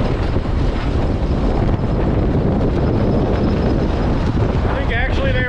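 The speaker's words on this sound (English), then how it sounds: "It's still pretty windy down here." Strong wind roars and buffets the microphone on a bridge over water with waves below, a loud, constant rushing that fills the whole stretch.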